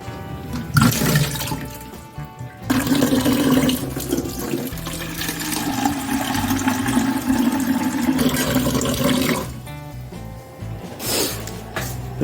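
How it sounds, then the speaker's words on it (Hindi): A water bottle being filled from a tap, with gushing, splashing water that starts and stops a few times and settles into a steady pouring stream, loud and close, with no talking. "अपनी पानी की बोतल ले आता हूँ भरने के लिए"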